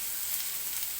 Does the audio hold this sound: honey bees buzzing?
no